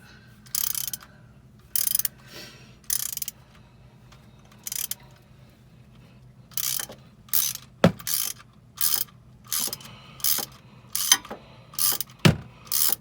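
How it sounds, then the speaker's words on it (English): A ratchet with a 10mm socket clicks in short bursts while removing bolts near a car's transmission, the strokes sparse at first, then coming in a quicker, regular run, close and with occasional sharper metallic knocks. "So you got two bolts, 1 and 2, that you need to remove."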